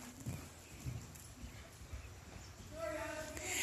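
Cantering horse hoofbeats during a jump lesson, a steady rhythmic clip-clop through soft ground over a few seconds, with light background noise and a brief whinny-like tone near the end.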